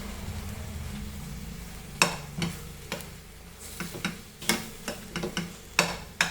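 Tomatoes frying in masala for egg xacuti, a soft steady sizzle broken by sharp, irregular clacks of a spoon stirring against the pan, close and with no talk.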